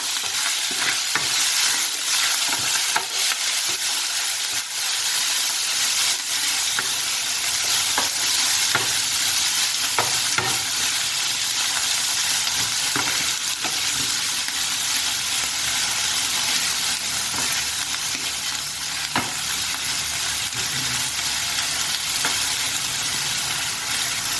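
Nham, fermented pork, stir-fried with egg in a pan: a loud, continuous sizzle with steady scraping and tossing throughout, and no one speaking.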